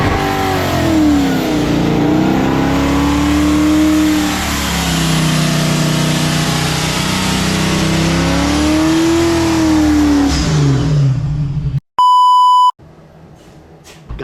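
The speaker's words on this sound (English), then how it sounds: "gonna do a badass freaking burnout" A Fox body car roars through a burnout, engine revving up and down in sustained loud sweeps with tire noise, then a sudden cut into a loud censor beep and quieter aftermath.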